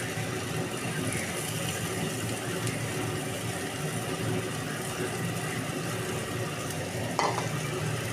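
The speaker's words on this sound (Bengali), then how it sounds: "এবার আমি মাছের ডিমগুলোকে ভালো করে ভাজবো মশলার সঙ্গে" Fish roe frying in a pan with ground cumin and turmeric paste, a continuous close sizzle with scraping stirring, steady in level, and a brief sharp clink near the end.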